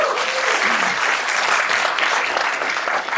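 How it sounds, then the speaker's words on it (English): An audience applauding at an investor pitch event in a venue, a dense, even wash of clapping from many hands that holds steady for a few seconds. "Applause."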